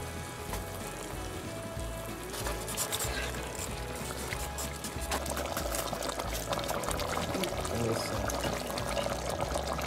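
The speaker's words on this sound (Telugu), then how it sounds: "ఒక కప్పు వాటర్ వేసుకోవాలి." Water poured into a pot of mutton for pulao, a steady close liquid pour with bubbling and sizzling under it, continuous and fairly loud throughout.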